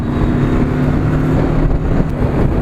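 A TVS Apache RTR 310 motorcycle cruises along a highway, its engine drone steady and loud, heavily mixed with constant wind rush over the microphone.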